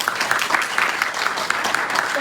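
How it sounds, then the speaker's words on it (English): Short burst of audience clapping at a Democratic Party judicial forum in a hall, loud and close with fairly regular claps throughout. "Give yourselves a round of applause."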